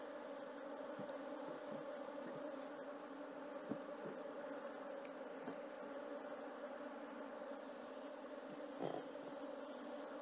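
Honeybees buzz around an open hive while a swarm is worked, a faint, continuous droning hum with occasional closer passes.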